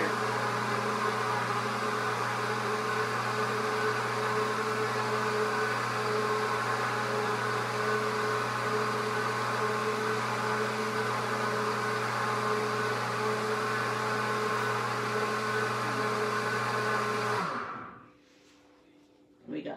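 A Pampered Chef Cook blender runs its wash cycle with a steady, loud motorized hum and whir at close range, holding constant before abruptly stopping near the end, leaving near silence.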